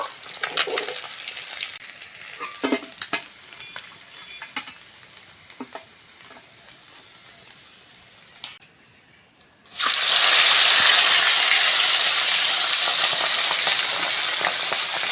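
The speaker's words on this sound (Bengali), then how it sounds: "মাছগুলো খুব সুন্দর করে লাল লাল করে ভেজে নিয়েছি" Pabda fish frying in oil: quiet crackling with scattered clicks and scrapes from handling in the pan, then a sudden loud, steady sizzle surges up and holds near the end.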